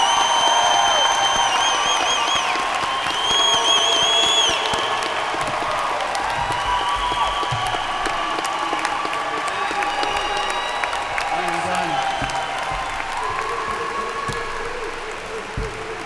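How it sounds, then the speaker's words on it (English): A commencement crowd at the University of Richmond SPCS ceremony breaks into sustained applause for the graduates, with whoops and cheers scattered through the clapping. The crowd noise is loud at first and slowly fades over about sixteen seconds, with voices mixed in. "You deserve a round of applause."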